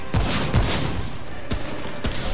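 Gunfire in the video game Remnant: From the Ashes: four sharp, loud shots at uneven intervals over a steady, busy game background, with no talking.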